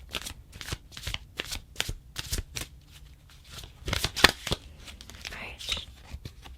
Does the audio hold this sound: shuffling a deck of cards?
yes